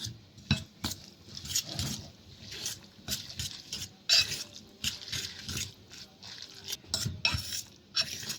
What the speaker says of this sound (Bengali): কিমাটা ভালো করে মাখাই নিতেছি।